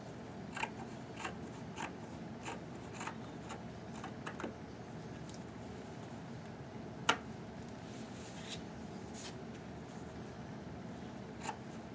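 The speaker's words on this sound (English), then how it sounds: "I'm going to cut in towards the corners." Scissors snip into the corners of paper for a baby onesie photo frame craft, a series of short, fairly faint crisp cuts spaced about a second apart over a low steady background hum.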